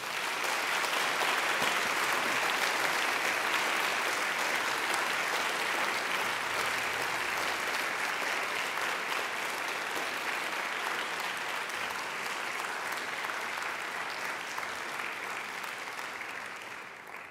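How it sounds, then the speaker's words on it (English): Graduates give a long, mighty round of applause to their families and friends at a graduation ceremony, a loud, dense and continuous roar of clapping that holds steady for well over fifteen seconds before easing slightly at the end. "I invite you to give them a mighty round of applause"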